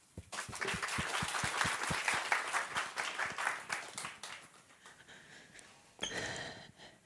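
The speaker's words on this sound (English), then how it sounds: "Please, warm applause to Saara" Audience applause welcoming a speaker at a marketing talk in Helsinki, distinct claps building into steady clapping that fades out after about five seconds, then a speaker begins talking.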